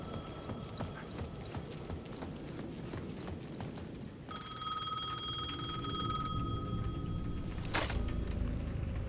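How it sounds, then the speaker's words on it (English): In the video game Alan Wake 2, horse hooves clop along, then a payphone at the edge of a plaza gives a shrill electronic ring that keeps sounding in a steady trill over the hoofbeats. "The payphone at the edge of the plaza was ringing again."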